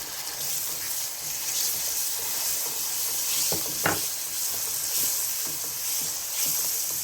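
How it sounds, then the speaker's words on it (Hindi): Yogurt goes into frying masala for a mutton karahi, giving a steady loud sizzle and hiss with scraping stirs and a brief spattering burst partway through. "अब इसमें मैं दही ऐड कर दूँगी ताकि हमारा मसाला जले नहीं।"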